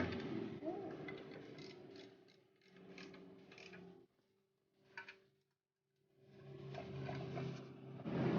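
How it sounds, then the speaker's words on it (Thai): A wrench or ratchet clicks steadily as it tightens the chain cover nuts on a Honda Wave 110i motorcycle, a faint run of mechanical ratcheting that pauses briefly in the middle before resuming. "สวมน็อตเข้าไปแล้วขันให้แน่น"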